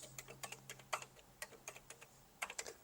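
Keys clack unevenly on a retro computer keyboard, crisp taps arriving in short bursts with brief pauses between, close and fairly quiet over a faint low hum.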